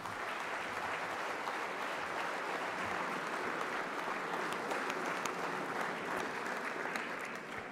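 Audience applauding after a minister's speech at the official opening of the XXI Triennale international exhibition in Milan, a sustained even wash of many hands clapping, moderately distant and steady throughout.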